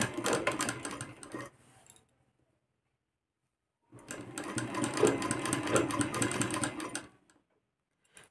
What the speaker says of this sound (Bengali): তো একই রকমভাবে উল্টো দিকেও আমি এই কোনাটা ধরে নিয়েছি, ধরে স্টিচ করে নেব।